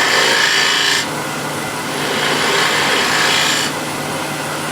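A spindle gouge cuts a decorative groove into a wood offcut spinning on a lathe, a close, dry scraping hiss in steady bursts that briefly intensify and ease, with no talking.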